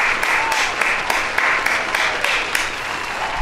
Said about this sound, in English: Everybody, please give Maurice a round of applause